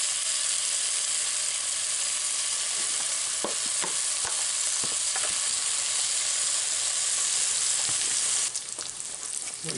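Hog jowl pieces frying in a Dutch oven, a loud, constant close-up sizzle broken by sharp pops and a few stirring scrapes, with no talk.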